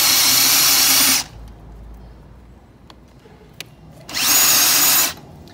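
A power drill fitted with a FAMAG German auger bit bores into wood in two loud whirring bursts, each about a second long, separated by a few seconds of near quiet with faint clicks.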